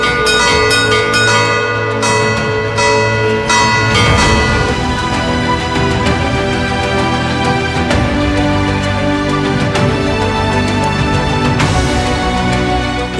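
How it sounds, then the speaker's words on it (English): Church bell of San Leonardo, cast in 1635, hanging in the bell tower beside the church of Sant'Agata in Sutera, Sicily, rings loudly and repeatedly with long overlapping resonant strikes and no voices. "was brought to the bell tower next to the church of Sant'Agata and still rings today for the people of"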